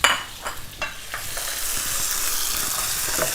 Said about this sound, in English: You'll hear a little bit of sizzle.